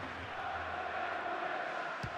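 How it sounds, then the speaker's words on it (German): A stadium crowd in FIFA 15 roars after a goal for the home side, a broad, sustained wash of cheering filling the whole moment without a break. "Stadion jubelt hier 1-0"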